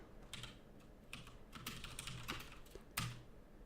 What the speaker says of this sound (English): I'm really slow at typing out the new scores syntax